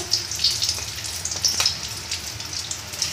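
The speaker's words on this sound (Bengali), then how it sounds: "চিংড়ি চপগুলো আমাদের ভাজা হচ্ছে" Homemade prawn chops deep-frying in plenty of oil in a home kitchen give off a fairly quiet, steady sizzle dotted with sharp little crackles and pops, with no voices.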